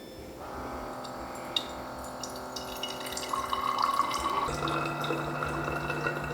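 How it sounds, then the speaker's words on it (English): About 16 ounces of water pours into a water filter tank, a steady, close filling stream that starts after a brief pause and grows slightly fuller as the tank fills. "So let's go ahead and fill this up with 16 ounces of water."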